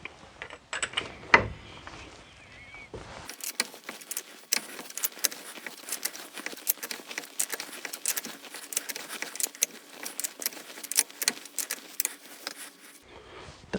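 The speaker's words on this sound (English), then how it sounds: "What we'll do now is slacken off the 32 nut on here." A 32 mm drive shaft nut on a Ford Mondeo Mk3 ST220 is worked loose with a ratchet, producing a long run of quick, close metallic clicks and ticks after a brief heavier clunk at the start.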